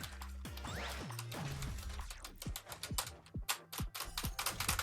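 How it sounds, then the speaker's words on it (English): Someone types fast and hard on a computer keyboard, a dense irregular clatter of sharp key strikes heard close-up with a few louder thumps mixed in and no speech. "Furious typing, yes."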